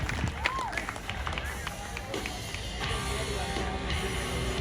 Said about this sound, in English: let's have a big round of applause for your top 10